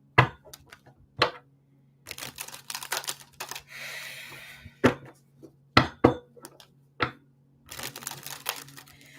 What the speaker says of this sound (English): One more shuffle because it feels right,